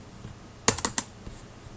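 A short burst of about four crisp key clicks on a computer keyboard, close and fairly quiet, over a faint room background.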